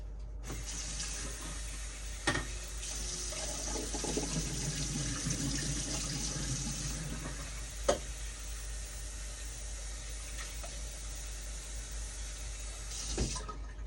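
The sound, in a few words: rinsing sweet potatoes under running tap water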